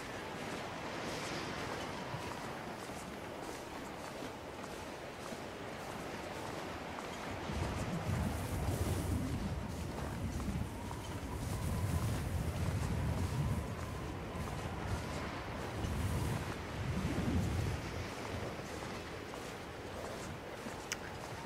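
Wind howls and gusts across a snowy landscape in The Long Dark, a steady blustery rush swelling into heavier low buffeting surges several times, with no voices.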